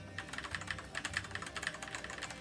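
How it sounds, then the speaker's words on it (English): Computer keyboard typing up close, a quick uneven run of crisp key clicks that keeps going steadily with no voices. "I love the sound that this keyboard makes."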